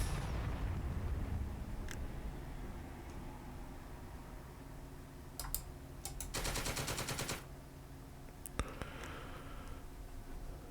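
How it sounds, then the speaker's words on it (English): Faint gunfire in the PC video game Second Front, with scattered single shots, a short rattling machine-gun burst in the middle and a few more isolated reports over a low rumbling background. "But we will keep on firing."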